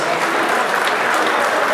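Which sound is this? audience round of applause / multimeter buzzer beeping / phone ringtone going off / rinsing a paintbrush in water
audience round of applause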